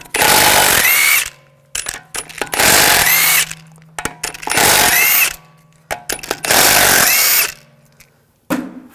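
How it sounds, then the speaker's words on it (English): Power tool fitted with a 17mm socket removing lug bolts from an Audi S4 convertible wheel, four loud close bursts of whirring impact rattle, each about a second long, separated by short pauses. "Using a 17mm socket, we're going to take the lug bolts off."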